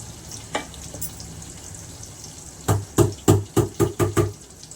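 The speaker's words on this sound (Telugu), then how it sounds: "నూనె వేడైపోయింది. జీలకర్ర, పోపు గింజలు," Cumin and other tempering seeds dropped into hot oil for a Telangana ridge gourd chutney, giving a faint background sizzle and then a quick run of close, sharp crackles and pops.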